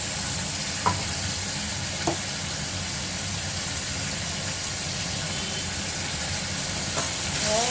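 Spice paste sizzles steadily in a pan for a lotte fish jhuro, with a few sharp scrapes of a spatula stirring it and a low hum underneath throughout.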